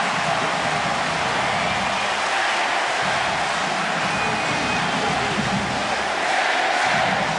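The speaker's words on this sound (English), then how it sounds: "The crowd really going nuts now." A stadium crowd at a 2007 Auburn versus Florida college football game roars loudly and continuously, a thick, unbroken wall of cheering that holds steady for over seven seconds.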